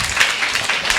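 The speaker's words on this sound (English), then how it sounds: "Oh, give her a big round of applause." A brief, close burst of audience applause at a panel discussion, dense clapping lasting about a second with no voices over it.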